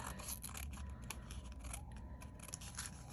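Scissors snip repeatedly close by, trimming the border off a paper playing card altered as a junk-journal specimen card, a steady run of crisp cuts with no talking.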